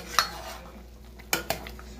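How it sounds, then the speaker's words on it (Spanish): A spoon stirs sweet potato boiling in a cooking pot for a sweet-potato preserve, giving a few sharp clinks and scrapes against the pot over a low background hiss. "Lo revolvemos para que se cueza"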